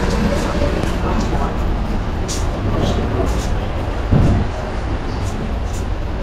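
The 126 DN Raiwind Special Shuttle Train of Pakistan Railways pulls out of a station with a steady broad rumble, soft intermittent clatter and one brief louder knock partway through.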